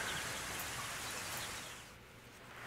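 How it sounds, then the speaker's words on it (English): Rain in the farming video game Rune Factory Frontier with the music gone, a soft, even patter of falling drops, quiet and fading slightly near the end. "It's just the pitter-patter of rain."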